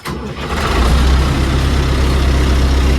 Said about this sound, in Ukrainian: А так, тоді далі цей вмикається, ну, ось заводиться він.